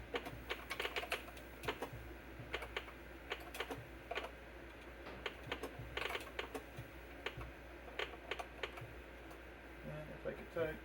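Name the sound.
typing on a DEC VT101 terminal keyboard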